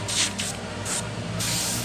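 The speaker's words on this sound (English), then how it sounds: "as long as your spray gun's working right" An airbrush spray gun sprays paint onto a skull in several short hissing bursts, then one longer steady blast, close by with no talking.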